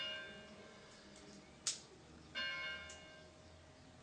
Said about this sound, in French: la cloche de l'église là me déconcentre